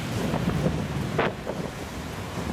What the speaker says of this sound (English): Winds are gusting to hurricane force now.